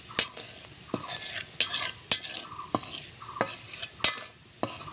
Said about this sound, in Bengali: তেলটা গরম হয়ে গিয়েছে, দিয়ে দিলাম কয়েকটা জিরে ফোড়ন।